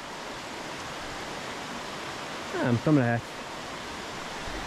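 Steady broadband rush of a river flowing over a stony bed in Pai, Thailand, a constant close water noise, briefly interrupted by a short spoken exchange.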